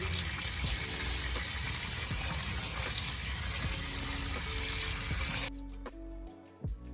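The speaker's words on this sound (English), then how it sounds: "I'm gonna go ahead and run some cool water over the noodles so that they quit cooking." Cool tap water runs steadily over drained cooked noodles in a kitchen sink, a continuous close rushing splash that cuts off abruptly near the end, followed by a few faint clunks.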